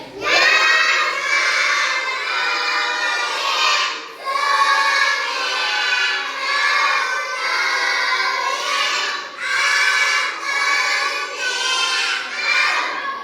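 A kindergarten class shouting a greeting to their teacher in unison, loud chanted phrases from many young voices in several long bursts separated by short pauses.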